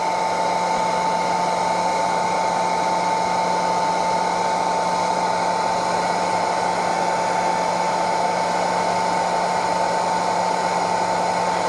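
A hair dryer on its low setting blows steadily as it heats wax on a canvas Burley saddle bag. The whirring tone is loud, close and unbroken, with no voices over it.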